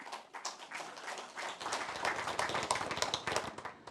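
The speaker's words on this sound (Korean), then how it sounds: "다시 한번 축하의 큰 박수를 부탁드립니다." A room of lawmakers applauds a newly elected floor leader of the People Power Party, with dense, steady clapping that builds slightly and continues throughout at moderate distance.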